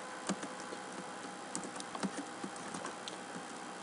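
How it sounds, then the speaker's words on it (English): Someone types on a computer keyboard with quick, light key clicks in an irregular patter, heard up close but quietly, with no talking. "now I'm going to type"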